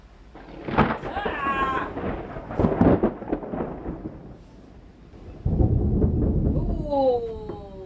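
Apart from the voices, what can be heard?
thunder from an approaching storm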